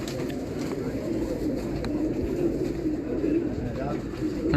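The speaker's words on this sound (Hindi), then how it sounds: "ये चैंपियन कबूतर है" Champion racing pigeons coo in a steady, low murmur that runs throughout, with a voice talking faintly over the birds.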